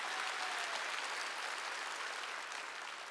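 A church congregation at a Wednesday worship service claps steadily in a dense, sustained round of applause that stays even and full for a few seconds before easing slightly.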